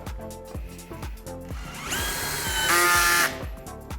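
A power drill with a 7/32 bit boring holes, its motor pulsing in rapid regular bursts and then rising into a louder, sustained grinding whir as the bit cuts through, close and with no talk.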